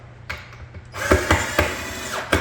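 Nuts being tightened with a ratcheting tool on a freestanding fireplace corner unit, giving a run of quick clicking ratchet strokes close by after a quiet start.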